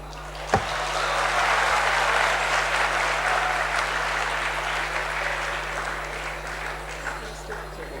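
An audience at a speaking event breaks into steady applause after a speech. A sharp knock opens it, then the clapping swells and slowly fades over several seconds, with a little crowd murmur.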